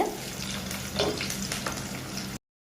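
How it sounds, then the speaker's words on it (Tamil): Small onions (shallots) sautéing in a pan for a fish curry (kulambu), a steady close hiss of frying with faint stirring scrapes throughout, no talk. "கொஞ்சம் சின்ன வெங்காயம் வந்து ஒரு ஒரு கைப்பிடி ஆட் பண்ணிக்கிறோம் ஃப்ரெண்ட்ஸ் இது நல்லா வதங்கும்"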